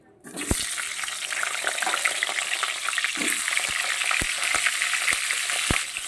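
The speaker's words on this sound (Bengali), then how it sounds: "আলুটা ভাজা হতে থাকুক" Potatoes fry in hot oil in a home kitchen, a steady bright sizzle running throughout with a few sharp clinks of a spatula against the pan.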